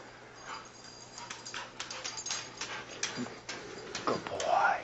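A dog whimpering softly nearby, with faint snuffling movement and a thin, rising whine near the end.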